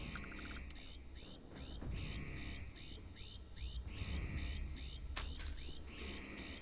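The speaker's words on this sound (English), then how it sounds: "Can I shut the alarm off?" Steady electronic alarm tone repeating in regular pulses, loud and continuous throughout, from a sci-fi setting in the video game Starfield, with faint game ambience beneath.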